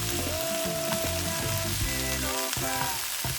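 Carrots and garlic fry in a pan for a Scotch bonnet jerk sauce, with a steady close sizzle and the scrape of stirring, plus a few tonal clatters over the continuous hiss.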